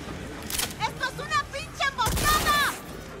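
Gunfire in the Cyberpunk 2077 video game cracks out in a loud burst of shots near the middle, with game effects and someone talking excitedly over the action.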